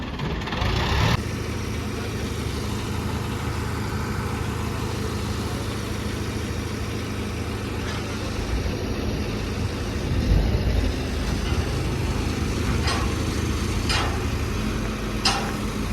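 A loaded truck's engine idles with a low, steady rumble as it reverses for crane loading of a 4.5 ton exhibition machine, with a brief rise in revs partway through and some faint clanks.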